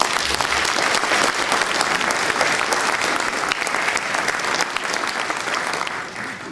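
Steady, dense applause from a large audience at a town New Year's greetings ceremony in Veigné, sustained and even throughout with no pauses.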